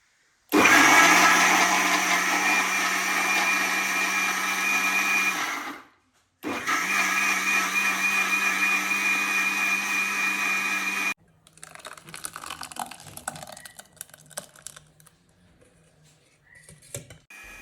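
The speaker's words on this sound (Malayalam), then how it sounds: "ഇനി മിക്സിയിലിട്ട് അടിച്ചെടുക്കുക" A mixer grinder blending cumin, fennel, pepper and curd into a masala for alfaham: two loud whirring runs of about five seconds each separated by a short pause, followed by quieter clatter and handling noises.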